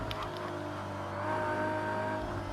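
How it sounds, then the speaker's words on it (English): Race car engine roaring at high revs in Project CARS 2, a loud sustained buzz with a slight swell midway, no talking. "You get the authentic car sound in here."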